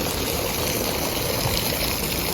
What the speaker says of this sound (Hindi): पहाड़ों से गिरता हुआ पानी ऊपर की तरफ से, ऐसे रास्तों में कई जगह मिलेगा।